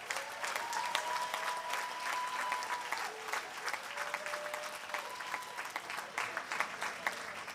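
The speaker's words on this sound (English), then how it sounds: "Let's have a big round of applause for all the MHA graduates." Applause for MHA graduates at a USC graduate commencement ceremony, a continuous, fairly distant patter of many hands clapping at steady volume, with faint sustained tones running beneath.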